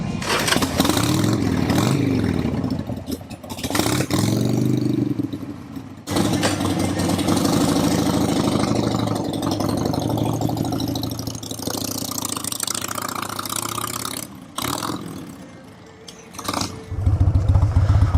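A Harley-Davidson Sportster motorcycle starts up and settles into a loud, close, lumpy idle, with brief revs and a couple of short cut-outs partway through.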